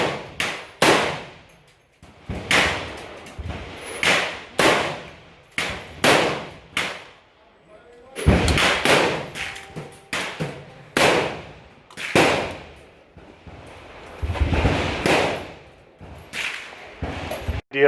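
A 350 Legend AR-15 rifle fired repeatedly outdoors, a long series of sharp loud cracks at a steady, unhurried pace, each with a brief trailing echo and no talking.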